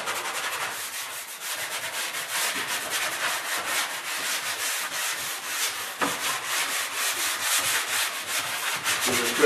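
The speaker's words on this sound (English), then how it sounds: "Our sanding sponge, a used one is good." Steady rhythmic scrubbing of a used sanding sponge over a wooden wardrobe, continuous back-and-forth strokes, close and moderately loud, with no talking.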